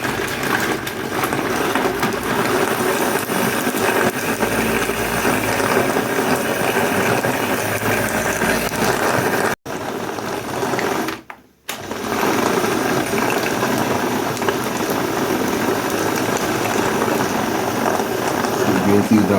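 A blender whirs continuously as it purées green seasoning for a Jamaican starfruit oxtail dish, a steady buzzing drone that cuts out briefly twice near the end before resuming.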